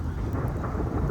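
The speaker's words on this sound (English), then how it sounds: "I'm gonna start moving in because it is starting to rain" Rain begins falling during a lightning storm in Houston, Texas, a dense, steady outdoor rush with low rumbling underneath, continuous and fairly close, with no voices.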